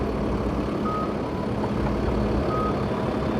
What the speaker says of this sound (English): that traffic is scaring me